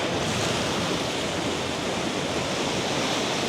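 Ocean waves wash over rocks on a bright day, giving a continuous broad rush of surf and spray that is loud, close and unbroken, with no voices.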